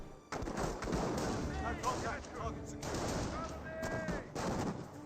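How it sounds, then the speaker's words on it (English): Rifle shots from snipers in Company of Heroes 1, a World War II strategy game, cracking amid dense battle noise, with someone commentating over them almost continuously. "It does receive the sniper fire now"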